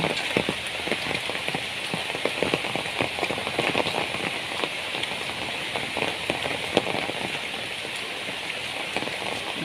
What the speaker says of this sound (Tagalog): eto po magdamag na po ang ulan dito sa amin